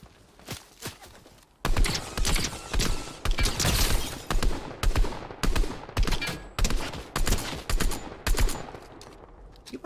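Gunfire in the video game Fortnite, a few sparse distant shots followed by loud close bursts of rapid fire in a rhythmic repeating pattern, dense and sustained to the end.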